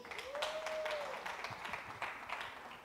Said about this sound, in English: Ladies, please, a massive round of applause for Her Excellency.